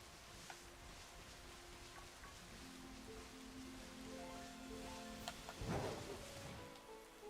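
Steady rain patters in Pokemon Scarlet and Violet, a soft continuous hiss of falling drops with faint game tones underneath and a brief louder swell near the end.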